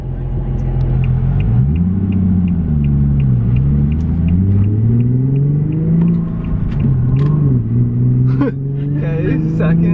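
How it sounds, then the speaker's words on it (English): A manual Infiniti G37's engine rumbles loud and steady from inside the cabin, heard from the passenger seat, its pitch climbing and dipping as it accelerates, with people talking over it. "It sounds so much louder sitting on this side of the car."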